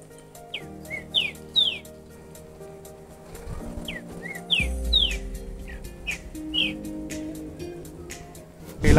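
A bar-crested antshrike (Thamnophilus multistriatus), an antbird of the Magdalena region near Villeta, Colombia, gives short whistled calls. Clear notes repeat in loose clusters over a low background hum, with a couple of dull knocks and no talking.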